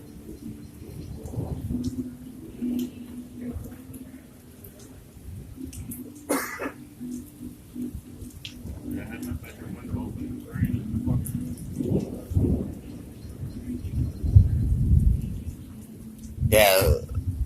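A thunderstorm in Davison, Michigan, in 2019: rain hisses steadily while low rumbles of thunder swell and fade, and people talk nearby throughout, with a gusty burst near the end.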